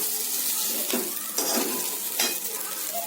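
Pesarattu pieces fry with onions and seasoning seeds in a pan, giving a soft sizzle while a spoon scrapes and stirs at a few distinct moments.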